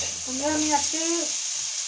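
Fish sizzles loudly and steadily in a frying pan, a constant hiss running the whole time while someone speaks briefly over it.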